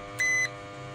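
Short electronic beep from the buzzer on a lightning-damaged Toshiba inverter refrigerator control board, one steady tone lasting about a quarter second over a low background hum.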